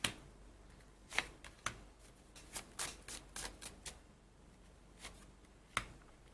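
Tarot cards being shuffled by hand, a close, quiet series of crisp slaps and riffles at irregular intervals over a soft background.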